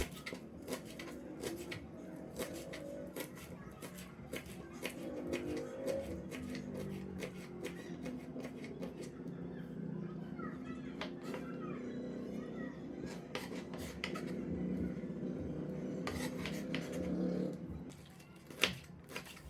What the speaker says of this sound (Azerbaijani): Onu da doğrayıb salata əlavə edirəm.